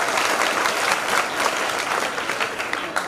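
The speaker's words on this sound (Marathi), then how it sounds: "एकदा जोरदार त्या दोघींसाठी टाळ्या होईल." A crowd at a wild vegetable festival in Warud, Amravati, claps loudly and steadily, a dense, close burst of applause that keeps going without pause.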